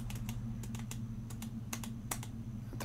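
Sharp computer mouse clicks recur in quick irregular bursts, close and fairly loud against a steady low hum, while a wooden ship steering wheel is being modelled in CAD software; no one speaks.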